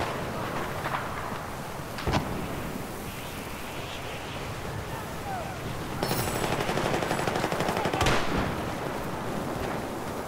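Automatic weapons rattle in bursts during a Battlefield 4 multiplayer match on the Gulf of Oman map, with sharper shots standing out near the middle and end over constant battle noise.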